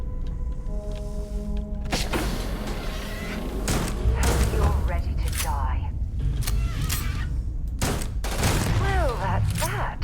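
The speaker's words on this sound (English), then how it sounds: "Shotgun doesn't seem very effective at taking them out." Shotgun blasts against swarming creatures in the video game Starfield, sharp bursts repeating unevenly amid game noise and creature sounds, with a voice talking over much of it.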